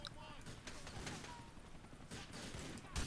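Gunfire in GTA IV while shooting police officers, several sharp shots spread across the moment, the last one loudest, over low background game noise.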